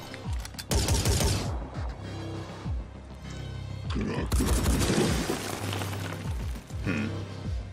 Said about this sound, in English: she should have no trouble taking him down with her PDW